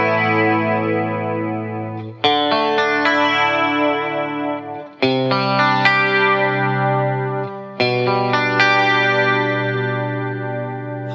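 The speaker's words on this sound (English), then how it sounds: "I'm going to fade in with the H3000, and it's going to come in on your right side" Electric guitar chords with an H3000 shimmery chorus effect for an 80s tone, four ringing strums that let each sustain and fade, alone and fairly loud.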